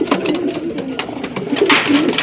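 A stressed pigeon coos in a loft, low throaty calls repeating close by, several in quick succession with a busier burst near the end.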